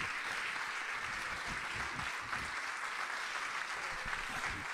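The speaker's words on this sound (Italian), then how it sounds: "Meritato questo applauso per il maestro" Applause from an audience at an International Jazz Day concert held by UNESCO, honoring a jazz trio, as a continuous soft wash of many hands clapping, fairly distant and even throughout.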